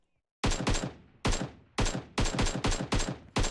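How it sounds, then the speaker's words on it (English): Rapid bursts of gunfire from the mobile shooter game PUBG Mobile, with six or seven sharp, loud shots in an uneven rhythm after a brief silence. Each report is close and punchy and is followed by a short ringing tail. No one talks. "What I really liked about PUBG Mobile were the gun sounds."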